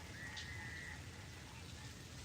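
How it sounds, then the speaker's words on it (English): Rain falls steadily as a faint, even hiss with soft low patter, and a brief thin whistle-like tone sounds near the start. "It's raining right now."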